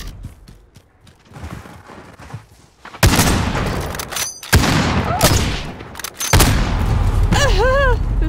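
Video game gunfire bursts out loud in sharp repeated volleys after a quieter opening, with a few separate shots in between and other game effects mixed in.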